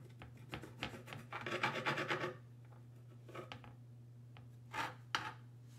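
A knife presses and scrapes through cranberry orange scone dough on a board, with a dense burst of rubbing cuts followed by a few sparse taps and scrapes over a low steady hum.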